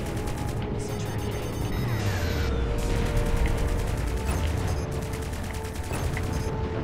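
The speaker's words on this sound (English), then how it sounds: "Please tell me they didn't fire torpedoes." Torpedoes are launched in the space combat game Strike Suit Zero, with a barrage of rapid mechanical firing bursts, crashing impacts and a sweeping whoosh, loud and continuous amid busy battle noise.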